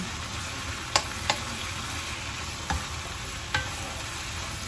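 Shrimp, cleaned and split down the middle, sizzles steadily in olive oil in a pan, a continuous hiss broken by four sharp utensil clicks against the pan.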